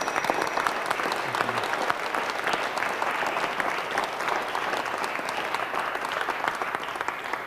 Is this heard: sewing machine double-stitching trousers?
no